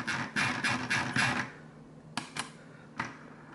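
Logitech G604 wireless gaming mouse scroll wheel being spun, a soft rapid whirring rattle in several quick pulses for over a second, then a few isolated clicks, close and quiet.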